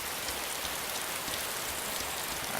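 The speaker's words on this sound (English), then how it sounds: "God, this rain is fucking loud." Heavy rain pours down in a dense, steady hiss of drops striking surfaces, loud and close, with no pauses or voices.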